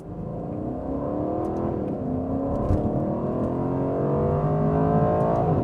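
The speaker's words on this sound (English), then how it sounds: "That exhaust note is just so mean." A 2019 Aston Martin Vantage's exhaust holds a steady, loud, deep drone that rises gradually as the car accelerates under load, with no voices over it.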